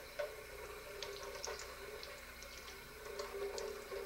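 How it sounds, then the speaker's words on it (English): A potato is rinsed under a running kitchen tap, steady splashing water with small knocks and ticks as it is moved about, close and moderately quiet. "run it under the water"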